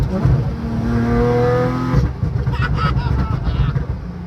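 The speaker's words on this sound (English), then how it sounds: "The snap, crackle, and pop on this thing is quite hilarious." 2014 Porsche Cayman engine revving hard with rising harmonic tones for about two seconds, then lifting off into a burst of sharp exhaust crackles and pops, loud and close.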